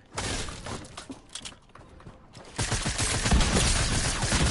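Rapid SMG fire in a video game, bursts of shots that swell into sustained loud gunfire toward the end, with no speech over it.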